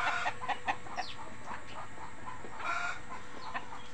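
Several chickens cluck in short, scattered bursts inside a backyard coop, fairly close and moderately loud, over a steady low background hum.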